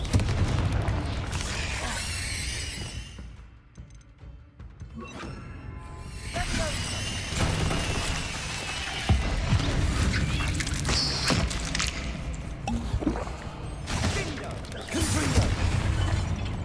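Spell blasts and explosive booms from the video game Hogwarts Legacy, including Bombarda and Confringo, thud and crash repeatedly amid combat effects and mechanical clatter, with a brief quieter lull near the middle.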